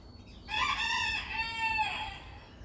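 A single rooster crows once, a bright drawn-out cock-a-doodle-doo heard from a moderate distance against a quiet background.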